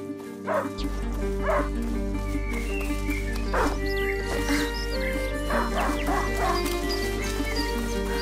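A hunting dog in the video game A Plague Tale: Innocence barks repeatedly in loud, close bursts over a constant low drone and layered game ambience, with no voices during the barking.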